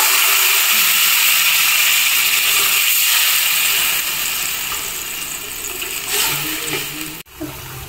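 Water poured into a pan of frying crabs, producing a loud, broad hissing sizzle that gradually eases as it settles, with a brief knock near the end.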